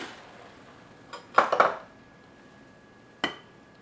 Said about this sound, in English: I'm going to put it into this dish here.